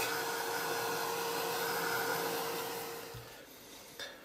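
A hair dryer blows steadily close by to dry a mixed media art journal page, a continuous loud whooshing whir that fades slightly before switching off near the end.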